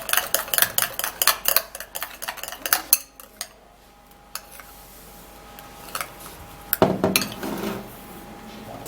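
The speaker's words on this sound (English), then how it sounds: "and then we mix this all up" A baking soda skincare mixture being stirred in a bowl, with rapid clinking scrapes of a utensil against the dish, a pause, then another burst of clattering stirring.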